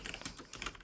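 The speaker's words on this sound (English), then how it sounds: "You know we can hear you typing." Quick light taps on a computer keyboard, a short soft burst of typing heard faintly on its own.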